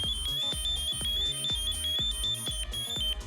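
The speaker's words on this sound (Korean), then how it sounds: "지금 이 앞에 보이시는 거는 구조 경보기라는 장비인데 제가 움직임이 없는 조건 하에서만 작동이 됩니다" A firefighter's personal rescue alert device, worn by a military fire-rescue crew member, gives a loud, steady, high-pitched electronic alarm tone because its wearer is motionless. A rhythmic low thumping runs underneath throughout.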